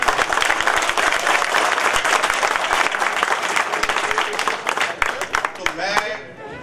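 Loud, dense applause from a crowd at a public gathering continues strongly, then tapers as a voice begins speaking at the end.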